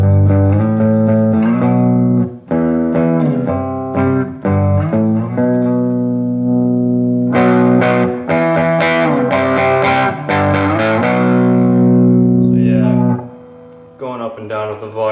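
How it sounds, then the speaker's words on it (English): An electric guitar plays through a RAT-style distortion pedal clone set about halfway, into a tube amp, ringing sustained chords and notes with a few short breaks, loud and close. "let's see what it looks like with the distortion about halfway"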